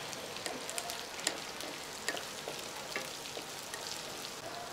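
Pumpkin-like butternut squash seeds mixed in a pan: close, continuous crackling sizzle with scattered sharp scrapes and clicks of stirring, no voices.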